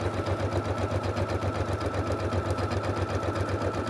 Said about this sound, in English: as you can see, the needle's just going back and forth.